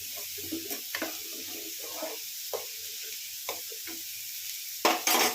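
Onions fry in a pan over raised heat, a soft steady sizzle broken by several scraping stirs of a spatula and a louder clatter near the end, with no talking.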